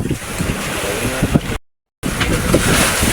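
Strong wind blasts across a fishing mother boat in rough Pacific seas with big waves, a loud, constant roar of gusts and surf that cuts out briefly before resuming.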